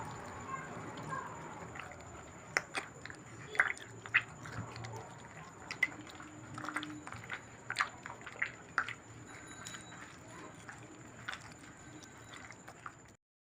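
Palmyra palm fruit pulp squeezed by hand in a bowl of water for a recipe: soft wet squishes, drips and small splashes in an irregular rhythm, close and faint.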